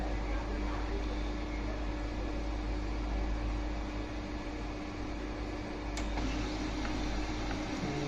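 An HP LaserJet Pro M126a laser printer running a copy gives a steady, close mechanical whir and hum, with one sharp click near the end and no talking.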